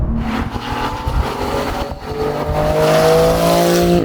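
Porsche GT2 RS accelerating hard, a loud close engine roar whose pitch climbs steadily with rising revs, with a brief dip as the gear changes and a hint of tire slip.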